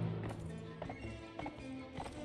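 Horse hooves clopping in the medieval combat game Mount and Blade Warband, a slow, fairly quiet rhythmic beat of a few hoofbeats with faint game ambience.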